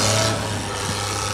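Engine of an old Suzuki four-wheel drive on a farm after a day of ploughing gorse, running steadily at a loud, even drone with a low hum throughout.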